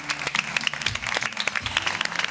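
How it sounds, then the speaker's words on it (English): An event audience gives a warm welcome to a guest photographer with lively, slightly uneven applause, individual claps standing out sharply within the steady crowd clapping, and no voices heard. "I'd like you to give a warm round of applause"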